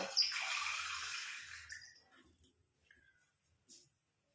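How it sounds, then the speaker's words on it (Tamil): Water gushes into a hot iron pan with a loud hissing rush for about two seconds, then fades to faint sputtering and a brief clink. "முக்கால் டம்ளர் அளவுக்கு நான் தண்ணி சேர்த்துக்கிறேன்"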